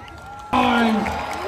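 At an outdoor Coca-Cola Christmas in the Park concert, a large crowd suddenly erupts into cheering and applause, a dense roar of clapping with whoops and voices that stays loud to the end.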